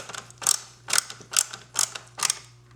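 Screwdriver turning a sharp-threaded screw into drilled plastic pillars of a 1965–66 Ford Mustang dash bezel gives five evenly spaced, close ratcheting creaks, each a short grinding click burst over a faint steady hum.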